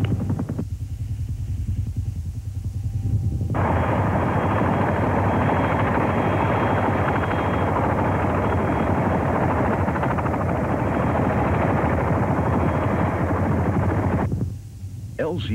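A Marine Cobra attack helicopter flies in a video game. Loud, steady rotor and turbine noise fills most of the stretch. Quieter moments at the start and end carry radio-style cockpit chatter.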